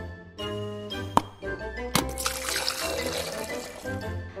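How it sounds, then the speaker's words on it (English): Water pours into a glass at close range with a bright trickle and a small clink near the start. A second clink comes a moment later, and no one speaks over it. "Ooh, I'll have a glass of water."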